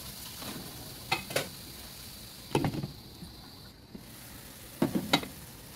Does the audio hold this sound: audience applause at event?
no